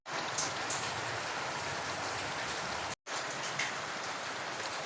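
Rain pours steadily during backyard cooking in the Philippines, a loud, dense wash of drops hitting surfaces that carries on unbroken apart from one momentary cut.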